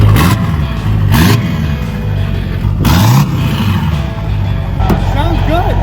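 Diesel-swapped 1970 Chevelle SS engine revs in loud, rising bursts, with heavy low rumble that swells and falls several times, while people talk over it nearby.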